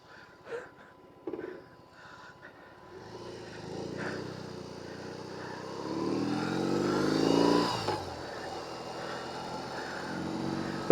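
A BMW R18 cruiser motorcycle's big boxer engine rumbles and revs up during a test ride, rising to a louder pull before easing off, heard moderately close.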